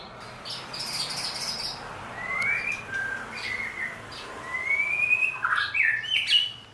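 A white-rumped shama (murai batu baret merah) sings nearby, giving bright rising whistles and quick chirpy phrases over a steady hiss of background insects.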